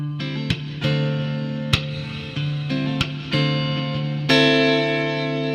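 Electric guitar notes and chords run through a looper with reverb, each plucked attack ringing out and layering into sustained, echoing tones that build and overlap, loud and close with no talking.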